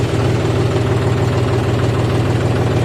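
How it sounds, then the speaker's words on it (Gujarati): A diesel tractor engine runs at a steady idle, a loud, even low throb with fine rapid pulsing and vibration, close and unbroken, with no talk. "મેં ડીઝલ ભરી લીધું અને હવે છે ને આપણે જવા દઈ ટ્રેક્ટર લઈને ધોઈડમાં।"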